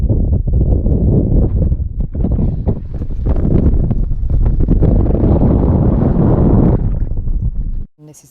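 Strong wind on a mountain at about 3,500 metres roars and buffets loudly against the microphone, gusting continuously before dropping away abruptly near the end.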